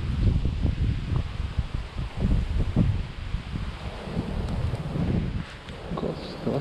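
Strong wind buffets the microphone in steady low roaring gusts by a lake, with rustling and occasional muffled bumps mixed in.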